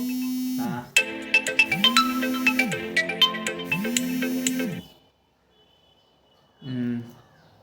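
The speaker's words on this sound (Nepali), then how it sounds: "सरी कल आइसकेको थियो।" A phone ringtone from an incoming call plays a bright repeating melody for about four seconds, then stops; after a pause a voice is heard briefly.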